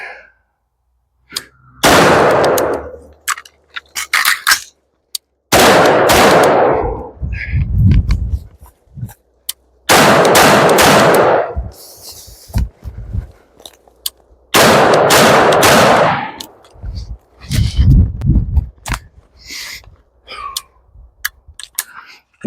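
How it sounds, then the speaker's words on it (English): Rifle fired outdoors on rocky terrain during a range training drill, with loud, sharp shots in groups of three separated by short pauses and a ringing tail after each report; no talk. "I turn, I shoot 3 rounds, and so on and so forth till I'm done with the last cone."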